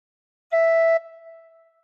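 A single gentle tin whistle note blown with fingers one to four covering the first four holes, a steady clear tone held about half a second that then rings on faintly into a quiet tail.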